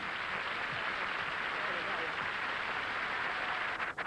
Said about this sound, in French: Alain Carré, je vous demande de l'applaudir aussi.